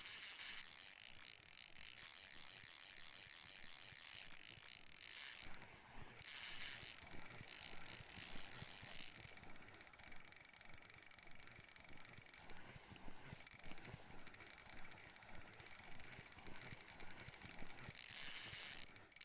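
A fishing reel spools line in Russian Fishing 4 on the Norwegian Sea during a glitched fight, a steady quiet mechanical ratcheting whir that runs on with brief gaps and no voices.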